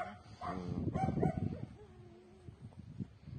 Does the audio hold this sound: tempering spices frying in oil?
no